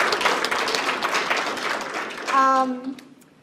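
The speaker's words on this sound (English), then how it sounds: "Big round of applause to Alice." Crowd applause fills the space, steady clapping for a few seconds before fading as a voice cuts in over the tail.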